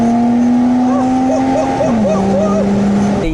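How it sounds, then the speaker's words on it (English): A Lotus Exige V6 S engine revs hard under acceleration, a loud close drone that rises in pitch, drops at an upshift and climbs again, with faint talk blended into the engine noise. "The Lotus Exige V6 S makes an unbelievable noise when you're accelerating in that car, especially if you have it set to sport mode"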